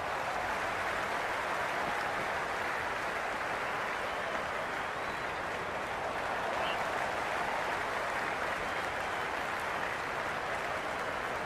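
A cricket crowd at a Big Bash T20 match between the Sydney Sixers and Adelaide Strikers roars and applauds continuously, a broad sustained wash of cheering heard from within the stadium with no clear voices on top.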